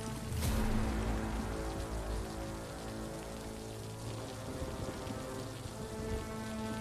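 Steady rain pours down onto the ocean surface, a dense even hiss of drops with a low rumbling undertone throughout, no voices.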